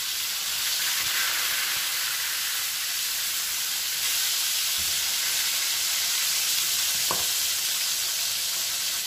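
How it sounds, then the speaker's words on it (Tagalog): Tilapia fries in hot oil with a continuous bright sizzle and hiss, steady and close, broken by a few soft knocks and a short clink of cookware. "So, ipiprito na lang natin itong ating tilapia."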